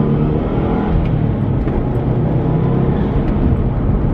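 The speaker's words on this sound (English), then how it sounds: "having this car back has been fucking awesome" Steady car engine drone while driving, a continuous low rumble with road noise filling the cabin, loud and even throughout with no talking.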